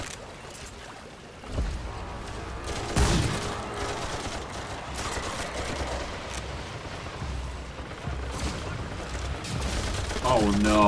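Enemy gunfire in the video game Remnant 2: bursts of shots crackle over a constant low game rumble, the firing picking up after a quiet opening and persisting to the end.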